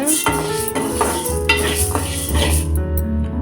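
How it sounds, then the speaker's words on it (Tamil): Lentils dry-roasting in a pan until golden brown for a sweet lentil porridge, with steady stirring scrapes, light sizzle and clinks of a utensil against the pan, close and continuous throughout. "ஸ்மெல் வரணும் நல்லா பொன்னிறமாக வறுத்துக்கோங்க"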